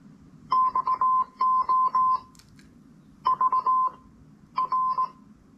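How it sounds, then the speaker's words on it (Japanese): Power-on chime from a compact 130 g MUZEN portable speaker: three bursts of short, even electronic beeps in quick Morse-code-like runs, clear and close against a quiet room. "モールス信号みたいな音が流れて"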